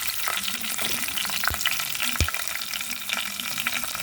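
Onions and green chillies fry in a pan of foxtail millet upma, giving a steady crackling sizzle with two sharp knocks of a utensil against the pan.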